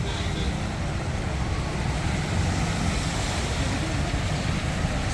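Vehicles push through deep floodwater on a waterlogged city road in Solapur between Avanti Nagar and Vasant Vihar, giving a steady, loud rush of churning water and wind-like noise that continues throughout without a break.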